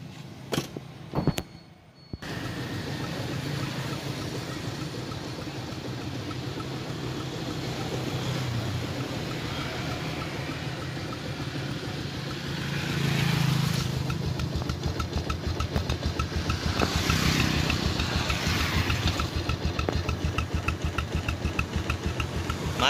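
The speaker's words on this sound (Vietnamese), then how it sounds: "Nổ máy đi, qua sẽ nổ máy cho anh em nghe luôn." After a few short clunks, the engine of a 2010 Yamaha Exciter motorcycle with a stock cylinder head starts and settles into a steady, rattling idle, swelling slightly louder partway through.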